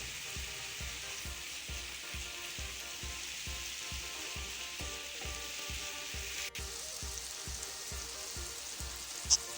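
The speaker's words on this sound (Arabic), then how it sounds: "غادي نزيد التوابل ونحرك" Potatoes with chicken breast fry in a pan with spices added, a steady close sizzle broken by a regular series of soft stirring scrapes. No talk.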